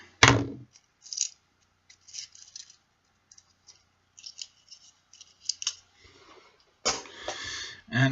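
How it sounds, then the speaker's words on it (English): Wire snipping on 26 gauge kanthal resistance wire for a Rouge RDA coil build: a sharp broadband cutter snap near the start, then scattered faint clicks and handling ticks, and a second louder burst of snipping and rustle near the end. "I'm going to use some 26 gauge canthal. Snip that."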